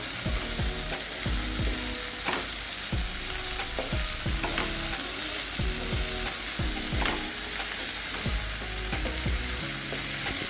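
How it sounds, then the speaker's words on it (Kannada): Coriander is stirred into hesar kal frying in a pan. A steady, close sizzle runs throughout, broken by repeated rhythmic scrapes of a spatula. "ಕೊತ್ತಂಬರಿ ಹಾಕಿ ಚೆನ್ನಾಗಿ ಮಿಕ್ಸ್ ಮಾಡತ್ತೀನಿ ರೀ"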